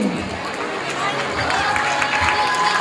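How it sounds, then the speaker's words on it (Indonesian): Students at a school orientation at SMKN 2 Teluk Kuantan applaud for Ani, a dense, steady wash of clapping from a nearby crowd with faint chatter underneath. "Kita beri aplaus untuk Ani"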